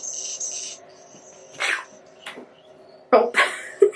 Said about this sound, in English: It makes chirping noises.